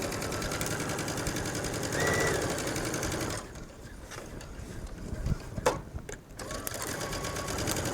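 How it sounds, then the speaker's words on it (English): A sewing machine stitching around the neckline of a top, a steady close whirring run of rapid needle clatter that eases and softens partway through, then picks up again, with no talk. "you're going to stitch all the way around the neckline"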